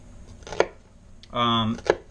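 A knife chops an onion on a cutting board. Two crisp, close strikes land about a second apart, with a short hum or voice-like tone between them.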